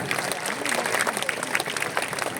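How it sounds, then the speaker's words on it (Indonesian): Crowd clapping for schoolchildren at the opening of the Bali Arts Festival, steady dense applause with scattered voices mixed in, moderately loud and continuous. "Tepuk tangan untuk anak-anak kita."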